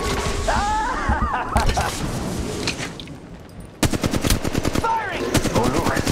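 Automatic weapons fire in the mobile game Apex Legends Mobile in loud, rapid bursts. A dense volley comes first, then a short lull, and then a sharper burst of evenly spaced shots.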